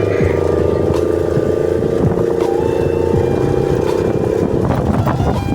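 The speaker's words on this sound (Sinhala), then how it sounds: "අපි මේ 48 cc බයික් එකක් පදලා" A 48 cc motorbike engine drones steadily and loudly while being ridden along a muddy village track, with a constant buzzing tone throughout.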